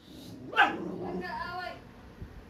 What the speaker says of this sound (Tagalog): Bakit may aso?